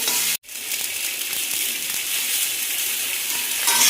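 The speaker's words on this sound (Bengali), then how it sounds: "পেঁপে আলুটা হালকা ভাজা হয়ে গেছে, এবারে পেঁয়াজ কোচানোটা আমি দিয়ে দেবো।" Chopped onion tossed into papaya and potato already frying in a pan gives a loud, steady sizzle that cuts out briefly near the start, then surges back and holds evenly to the end, with no voices.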